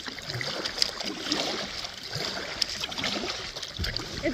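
A small boat on a very shallow river runs through rapids, knocking and scraping over rocks and bumps amid continuous rushing water, with a few sharp close thumps standing out from the steady splashing.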